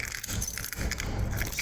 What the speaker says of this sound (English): So many keys.